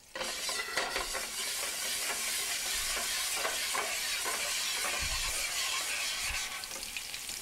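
Minced fresh garlic, about eight cloves, sizzles steadily in olive oil in a pan, a continuous bright frying hiss with occasional stirring scrapes and bumps.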